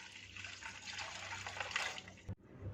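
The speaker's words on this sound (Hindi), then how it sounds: "इसके साथ एक बाउल में बर्फ़ डालेंगे, इसमें खूब ढेर सारा पानी शामिल करेंगे।" Water running into a bowl of ice while preparing a potato fries recipe, a steady hissing pour lasting a couple of seconds that stops abruptly, followed by a brief clink and then quiet.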